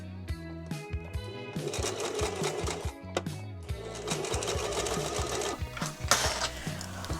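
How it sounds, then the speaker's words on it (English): A sewing machine fitted with a zipper foot stitches in steady rapid bursts, its mechanical whirring and clatter starting and stopping several times, close by with no voices. "I also need to change the foot on my sewing machine to a zipper foot."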